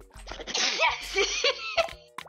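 A cartoon dog in Wobbledogs lets out a single squeaky, comical sneeze, bright and close, with a short sharp after-sound.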